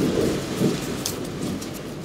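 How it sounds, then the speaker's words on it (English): Thunder rolls through a rainstorm: a low, steady rumble with a couple of swells, under continuous rain, with no one speaking. "you can most certainly hear the thunder."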